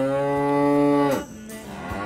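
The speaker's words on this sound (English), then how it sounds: "So many cows!" Cows in a video game moo loudly and close, one long sustained bovine call, then a lower, rougher moo trailing into a quieter second call.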